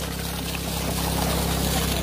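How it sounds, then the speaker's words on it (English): A sump pump pumps water out of a backyard basin: water gushing and pouring steadily over a low, constant motor hum, a continuous churning flow with no talking. "we're pumping all the water out of the traditional basin"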